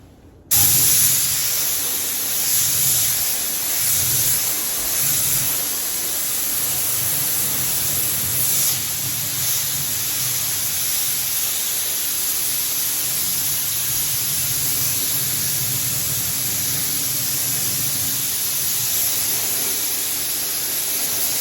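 A steady, hissing spray of Koch Chemie Plast Star tire dressing onto aggressive tires runs almost continuously for twenty seconds, loud and close, with faint rhythmic pulses early on and no talking.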